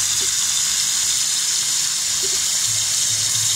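Tap water gushes steadily into a pot of root vegetables such as malanga being readied for Cuban ajiaco, a constant close rushing hiss with no voices.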